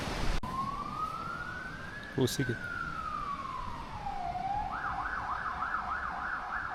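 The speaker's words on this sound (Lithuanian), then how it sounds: "Sirenos kokia čia šalia kažkur visai ežero kitoj pusėj." A distant fire engine siren carries across a lake, rising and falling in a long wail before switching to a rapid warbling yelp. A person speaks one brief word near the start, and there is a short thump midway.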